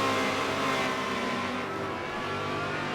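Race cars in a Ford versus Ferrari endurance race at Road America roar continuously as they accelerate along the big circuit, a loud sustained engine drone with layered pitches from several cars at once.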